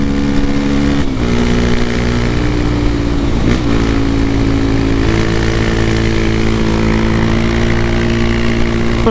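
A Honda XR Tornado motorcycle fitted with a Belparts Classic exhaust runs loud and close, a steady droning engine note with a brief blip of revving partway through and occasional crackles.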